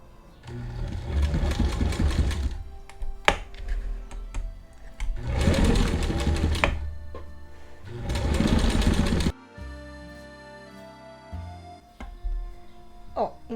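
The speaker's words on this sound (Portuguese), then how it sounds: "Primeiro eu vou passar uma costura reta e depois eu vou fazer o zigue-zague aqui" A sewing machine runs a straight stitch on fabric in three loud bursts of rapid needle chatter separated by brief pauses, followed by quieter hum and clicks.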